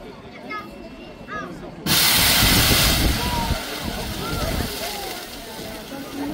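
Half a litre of burning oil in a fire brigade demonstration suddenly flares into a loud, close, roaring hiss after a quieter crackling stretch, then keeps hissing and rushing steadily to the end.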